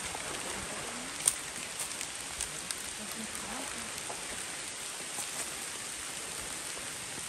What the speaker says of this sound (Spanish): ya empezó a llover más.